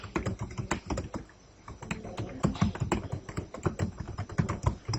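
Rapid, uneven keystrokes on a computer keyboard as values are entered into an SQL table, clicking steadily and close by with a brief pause near the middle, no talking.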